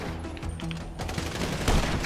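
Sniper fire and a gunfight rattle through a Grand Theft Auto V shootout against Merryweather forces, with repeated loud shots and bursts stacking over a steady game background and growing heavier toward the end.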